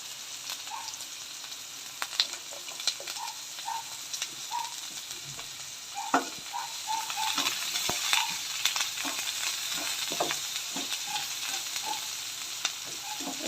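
Garlic and onion fry in oil in a pan for a Kerala-style tilapia fish curry, giving a steady close sizzle broken by scattered crackles, pops and the occasional scrape of a stirring spoon.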